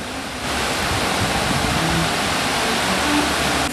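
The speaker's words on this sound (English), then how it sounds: "there are a number of other waterfalls up in the gorge beyond, which, though nowhere near as large, are quite charming in themselves" Steady, loud rushing roar of a waterfall in a gorge at Buttermilk Falls State Park, a continuous broadband wash of falling water that holds constant throughout with no voices.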